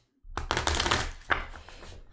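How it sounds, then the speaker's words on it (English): Tarot cards being shuffled by hand, a dense riffling burst after a moment of silence followed by a second shorter flurry, close and fairly loud with no voices. "And I'm going to shuffle this slow tarot."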